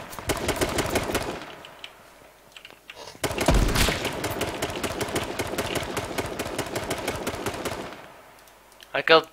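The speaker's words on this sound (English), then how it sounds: "I killed both with sniper." Sniper rifle shots in H1Z1 King of the Kill, with one sharp, loud blast standing out amid a rapid clatter of other gunfire in a close firefight, while a player talks.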